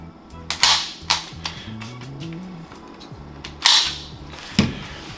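A SIG 220 pistol chambered in 10mm being cleared, with several sharp metallic clacks and slide snaps spaced irregularly, close and loud against a low steady hum.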